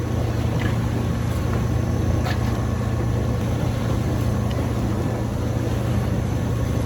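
Sailboat motoring under engine power in calm air, a steady low droning engine hum with water wash and light wind, continuous and close, no talking.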